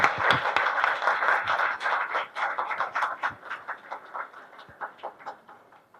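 Audience applause after a talk on the Puranic concept of time, a dense patter of claps that starts loud and thins out, easing off toward the end.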